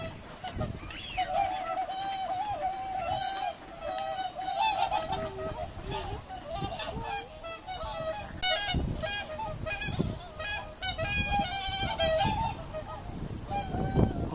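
Whooper swans honking on a park pond at Otsuka Pond in Mito, with many overlapping bugling calls from a sizeable flock, continuous and fairly near, with faint voices in the background.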